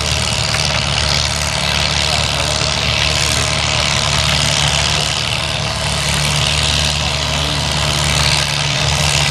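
A tractor at a 2011 Field Day of the Past tractor pull roars with a heavy, steady low engine drone throughout, loud and close with a dense wash of noise and no clear pauses.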